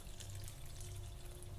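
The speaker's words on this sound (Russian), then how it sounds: "Можно добавить еще немного воды." Water poured steadily into a pan of eggplant, a continuous soft splashing trickle with a low hum underneath, no voices.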